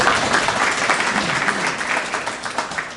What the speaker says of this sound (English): Have a big round of applause.